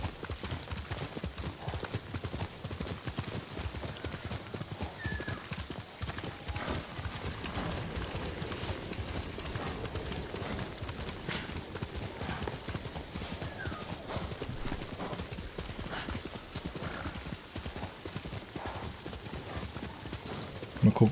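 Rapid, rhythmic hoofbeats of a galloping horse in Ghost of Tsushima pound steadily throughout, with occasional whinnies and faint background sounds.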